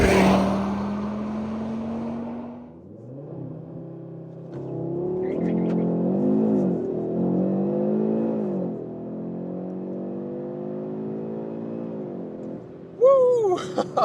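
A facelifted Audi RS3 in performance mode with ESC Sport accelerates hard, its engine climbing through repeated rising revs with gear changes between pulls, loud and close from inside the cabin, with a brief voice near the end.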